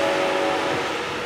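A red train heading north at track speed; a loud, close, steady rumble with a sustained tonal drone, no talk.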